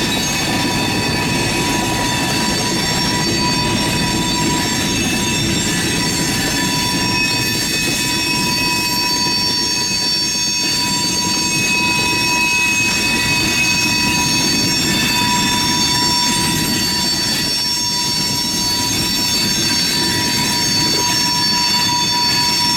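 A local freight train switches tanker cars in Tampa, Florida, with a continuous loud rumble of rolling cars and a sustained high wheel squeal close by, with no talking.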